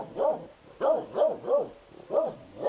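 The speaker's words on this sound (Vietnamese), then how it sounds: "Vừa đi phải vừa để ý chó." Village dogs on a remote mountain hillside bark in a run of five or six sharp, evenly spaced barks, moderately near and fairly faint, with no talk over them.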